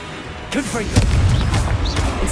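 Fiery Confringo spell blasts in Hogwarts Legacy, a rapid series of booming bursts and crackling impacts following a brief cast, loud and close with game effects swirling underneath.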